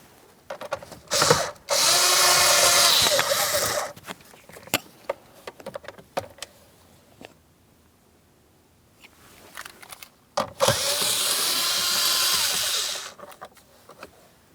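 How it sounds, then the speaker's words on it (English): A power tool removes the two 7mm mounting bolts on a 2015-2025 Ford Transit 250 during a front strut job, with two loud sustained whirring bursts separated by ratcheting clicks and small metallic knocks in quieter gaps. "you have two 7mm mounting bolts to remove the pair"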